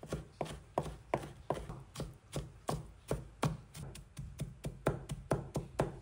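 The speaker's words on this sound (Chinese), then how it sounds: "用刀切碎，切的时候可以剁得碎一些" A knife chops mustard greens on a cutting board in fast, steady, evenly spaced strokes, each a crisp close knock of blade on board, continuing alone without talk.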